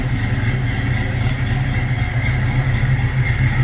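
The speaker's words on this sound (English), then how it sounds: "Has a nice lope to the engine," A 1966 Ford Mustang with a 289 V8 idling close by, a steady deep rumble with an even loping pulse and no talking.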